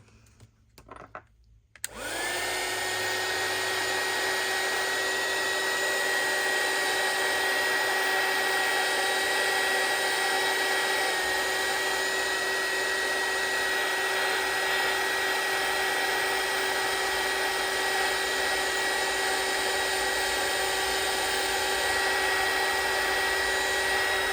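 A hair dryer switches on after a brief rustle and runs steadily with a strong, even whine and airy rush while drying a watercolor postcard, loud and close with no talking.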